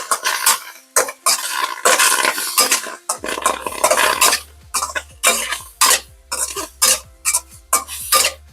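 Lotus root and tofu tossed with chili black bean paste in a hot wok, sizzling loudly as moisture hits the metal, with repeated bursts of scraping and stirring and a low rumble beneath.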